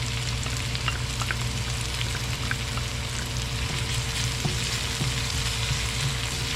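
Garlic and onion fry in a pan with a continuous crackling sizzle and a low steady hum beneath it, with faint stirring clicks now and then.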